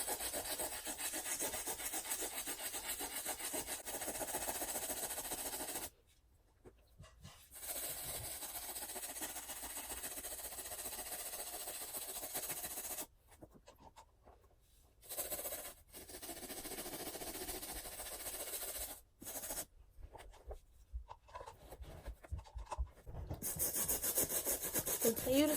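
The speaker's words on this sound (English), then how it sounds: "Continue to scrub that part of your shoe all the way around" A brush scrubs a white shoe in close, rough back-and-forth strokes, the rasping broken by a few short pauses before it picks up again, louder toward the end.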